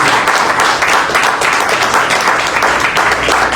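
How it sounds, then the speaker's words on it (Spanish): Church congregation clapping loudly and continuously, a dense steady wash of applause with no pauses. "¿Le pueden dar un aplauso al Señor,"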